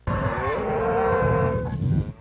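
Cattle on an Arizona ranch: a single long, loud moo carries close and steady for about two seconds, with no voices over it.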